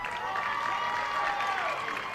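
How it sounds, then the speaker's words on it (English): A crowd of roughly 300 spectators at a high school soccer match between Cinco Ranch and Ridge Point at Rhodes Stadium in Katy gives off a steady, close murmur of chatter and mixed voices with no clear peaks. "Got a pretty good crowd on hand."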